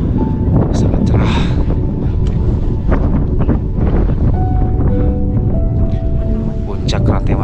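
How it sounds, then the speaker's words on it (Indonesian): Strong wind buffets the microphone on the Rante Mario summit of Latimojong in Indonesia, a loud continuous rumbling roar that runs through the whole stretch while people talk over it. "angin di sini sebenarnya dari semalam sih anginnya tidak berhenti-berhenti. Berangin terus."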